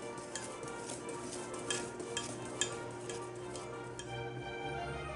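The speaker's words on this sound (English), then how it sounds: "once all of the spices have been added to your flour, just simply whisk until combined" Wire whisk stirring spices into flour in a bowl, a quick rhythmic ticking and scraping against the bowl, soft and close, with no voices.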